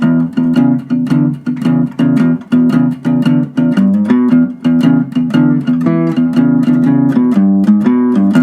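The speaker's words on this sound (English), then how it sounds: "if you ever hear bass lines that sound like this" A blues bass line plucked on guitar repeats in a bouncy, steady groove, low notes looping over and over with crisp attacks, played alone and loud.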